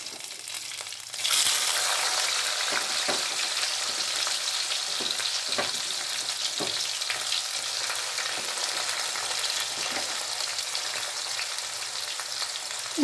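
Onion drops into hot oil in a pan and bursts into a loud, steady sizzle that continues evenly, with occasional stirring scrapes and no talking.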